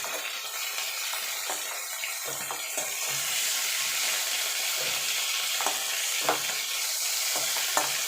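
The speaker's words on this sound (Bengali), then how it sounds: "ফুলকপিগুলো ভাজা হয়ে গেছে" Cauliflower florets frying in hot oil in a home kitchen pan, a steady close sizzle with scattered pops and light stirring clicks throughout, no talking.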